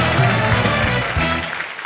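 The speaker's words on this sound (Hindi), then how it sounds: "तालियां।" Studio audience at a Hindi TV game show bursts into loud, dense applause that fills the space, holding steady before fading slightly at the end.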